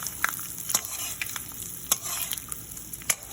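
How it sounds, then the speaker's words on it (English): Rava semolina for upma fries in a pan with a pinch of asafoetida, giving a continuous soft sizzle broken by a few sharp scraping strokes of a spoon, close and fairly quiet. "Let's stir it."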